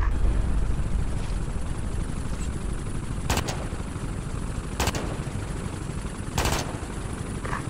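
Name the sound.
gunfire in Ghost Recon Advanced Warfighter 2 video game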